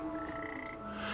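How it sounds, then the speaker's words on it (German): Frogs croak in the video game Papo & Yo, a steady, close chorus of wet, rhythmic calls that fills the whole brief moment with no talking over it. "Da kommen immer neue Frösche raus."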